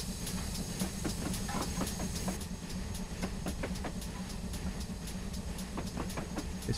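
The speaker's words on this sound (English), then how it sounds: "Steam train coming through!" GWR Hall 4900 Class steam engine in a rail simulator on a branch line, rapid rhythmic chuffs of exhaust over a continuous low rumble and hiss as it gathers speed, close and steady, with no voices.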